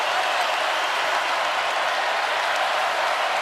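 Basketball arena crowd at an NC State vs. North Carolina ACC men's game roaring and cheering, a dense, steady wall of applause and shouting that fills the whole stretch without a break.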